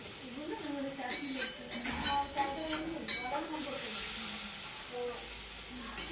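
Mutton brain frying in a pan with tomato, stirred slowly: a soft steady sizzle and hiss with light scrapes, while a voice talks over it.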